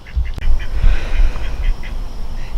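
Ducks in a backyard garden quack repeatedly in short nasal bursts, fairly close, over a steady outdoor background with a faint low rumble.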